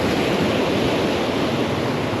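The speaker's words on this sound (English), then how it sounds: "waves definitely picked up a bit." Ocean surf rolling in at the Jersey Shore under overcast skies, a steady loud broadband wash of breaking waves with wind noise on the microphone, continuous throughout with no voices.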